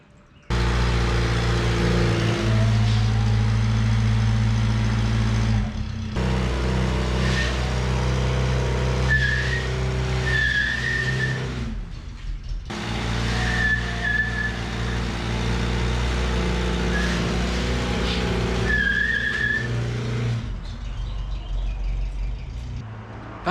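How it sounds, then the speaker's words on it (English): A car with very small tires revs hard in long sustained engine roars, the pitch holding high with brief drops between pulls, loud and close with no talking over it. "I'm saying there ain't no damn way this thing spins the tires."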